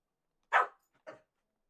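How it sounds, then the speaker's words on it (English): A dog indoors near a bed gives two short, close barks, the first louder and the second softer, separated by a brief pause in an otherwise quiet room. "Now I'm getting barked at."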